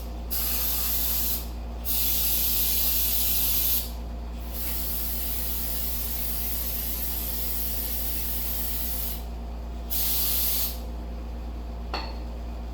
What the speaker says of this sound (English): I'm going to use my contact cleaner